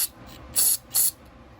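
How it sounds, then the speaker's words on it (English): Brake parts cleaner sprayed into a Homelite XL-12 chainsaw carburetor where the needle sits, two sharp, loud hissing bursts about half a second apart, close up after a fainter hiss at the start. "we're gonna clean this carburetor up with some brake parts cleaner"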